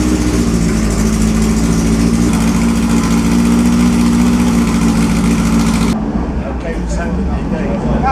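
A vintage racing car at the 2012 Monaco Historic Grand Prix runs with a steady, loud engine drone that holds constant before dropping off sharply near the end; voices can be heard over it.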